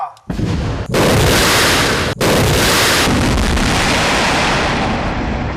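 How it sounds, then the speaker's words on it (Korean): Explosives detonate in an underground vertical mine shaft, a huge sustained roar of blast noise that fills the space for several seconds after a short dip, loud and close with no talk. "강력한 폭발 뒤에"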